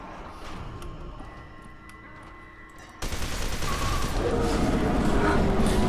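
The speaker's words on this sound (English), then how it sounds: "I'll see how the machine gun does." Machine gun fire in the shooter F.E.A.R. 2. Quiet, muffled ambience with faint clicks gives way to a loud, continuous burst of rapid automatic fire that keeps going to the end.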